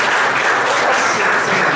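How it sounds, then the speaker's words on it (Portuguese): Congregation applauding during a Portuguese-language church service, a dense steady wash of many hands clapping throughout, loud and close. "Vamos aplaudir o Senhor?"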